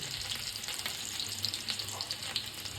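Chilies sizzle in hot oil while samosa filling is made, a steady dense crackling fry with small pops throughout, close and moderately loud, with no voices.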